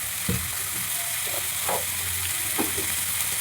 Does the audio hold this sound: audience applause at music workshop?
no